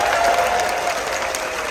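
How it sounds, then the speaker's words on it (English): Audience applause at a couples' game show aboard a cruise ship, a dense burst of clapping from a crowd that stays steady and fairly loud throughout. "Give them a round of applause."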